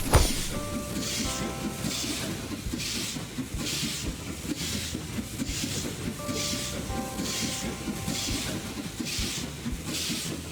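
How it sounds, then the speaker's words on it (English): Train from an Android train racing video game running steadily, a continuous rumbling hiss with rhythmic rail clatter and occasional tonal game chimes, loud and unbroken. "Stop the train!"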